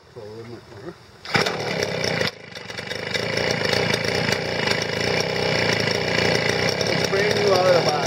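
A brand-new Tool Tuff 33cc gas backpack leaf blower catches after a pull at half choke, a brief cut, then settles into a steady loud buzzing run that continues to the end.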